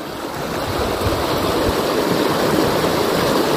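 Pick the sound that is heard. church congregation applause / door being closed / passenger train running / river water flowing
river water flowing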